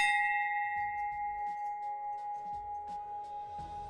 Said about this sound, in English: That's quite an incredible bell.